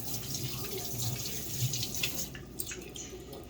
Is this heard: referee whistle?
no